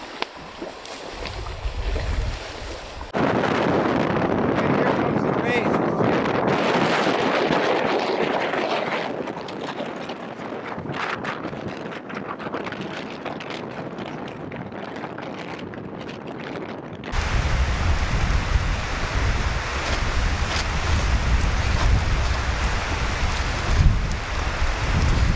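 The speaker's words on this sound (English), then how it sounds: "That's some big wind." Strong wind roaring across an open point on Lake Opeongo in Algonquin Park, a loud continuous rush buffeting the microphone, with gusty surges and a harsher blast near the end, no voices.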